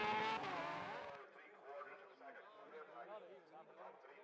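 Kawasaki ZX-10RR racing motorcycles pass at speed on the Tandragee 100 road circuit, a loud close roar at first that drops away into a fainter, fluctuating engine drone while a voice talks over it.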